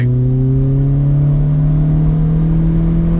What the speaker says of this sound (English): let's give it the absolute big one in second gear